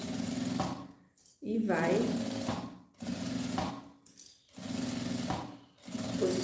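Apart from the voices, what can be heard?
sewing machine stitching a handbag strap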